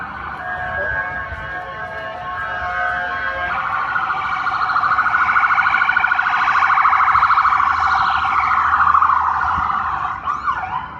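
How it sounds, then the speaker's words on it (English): An ambulance siren wails along a downtown Toronto street on a Friday evening, loud and close, first a rapid yelping cycle then a slower rising-and-falling wail, sounding alone without talk. "There's an ambulance."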